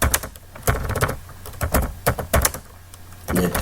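Someone types a command on a computer keyboard: a close, brisk run of clicking keystrokes with uneven rhythm and short pauses, and no voices over it.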